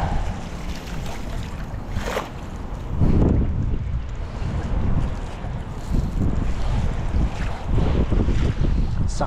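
Steady wind blowing hard across the microphone, a continuous gusty roar with water sounds beneath it.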